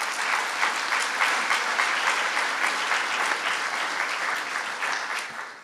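Audience applause for legislators at a governor's announcement in the Javits Center, a dense, even patter of many hands clapping that holds steady and tapers off at the end.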